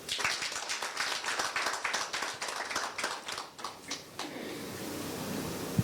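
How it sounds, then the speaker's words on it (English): Audience at a Soroptimist International club constitutive assembly clapping in a steady, fairly loud patter of many hands for several seconds, thinning out near the end into room tone. "Please clap for them again."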